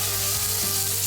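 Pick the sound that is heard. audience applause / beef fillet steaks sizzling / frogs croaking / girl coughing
beef fillet steaks sizzling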